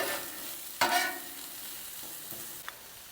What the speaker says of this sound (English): I'm going to go ahead and put the onions on and get those going and mix them up